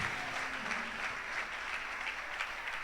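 A church congregation applauds in praise during a service, a steady wash of clapping from many hands that fills the room evenly from start to finish.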